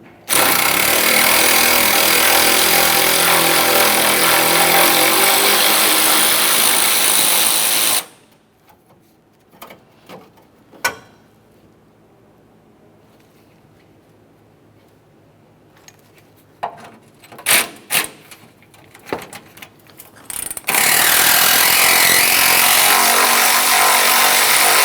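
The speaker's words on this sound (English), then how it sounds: "Remove this 10mm headed bolt," Power tool buzzing loudly and steadily while backing out 10mm-headed bolts from a 2004-2006 Scion xB radiator cooling fan, with a long burst at the start, a quieter stretch of scattered clicks and clatter, then another sustained run.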